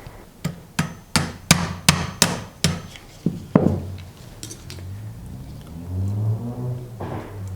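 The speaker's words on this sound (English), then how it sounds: "You're going to take a punch and very gently tap it from this side to remove the pin." A metal punch taps repeatedly at the float pin of a Yamaha Virago 1100 motorcycle carburetor, about a dozen sharp, evenly paced metallic knocks up close, followed by a low rumbling hum.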